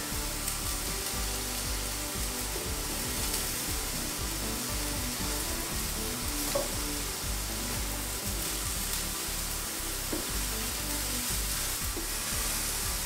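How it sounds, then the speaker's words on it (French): Halved cep mushrooms fry in a pan, making a continuous close sizzle with scattered crackles and a soft scrape as they are turned over. Nobody speaks. "Du coup ça commence à colorer. Vous voyez, bien coloré, on va les retourner."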